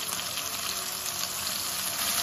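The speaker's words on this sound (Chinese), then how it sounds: "给它煎另一面。" Beef steak searing in a pan over medium-low heat, a loud continuous dense sizzle with no pauses and no talking.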